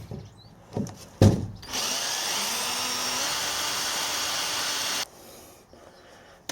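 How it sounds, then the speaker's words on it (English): A power drill drills bolt holes in metal, whirring steadily for a few seconds after some short bursts and clunks, then cuts off, close and fairly loud. "I've got to drill another hole for the next bolt"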